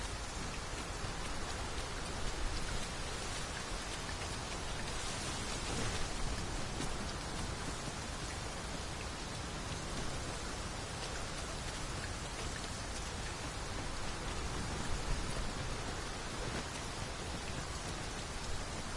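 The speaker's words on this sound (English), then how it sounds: "This downpour seems unlikely to abate." Heavy rain in the video game Dragon's Dogma 2 pours steadily and densely, a constant loud hiss of drops with no pauses or voices.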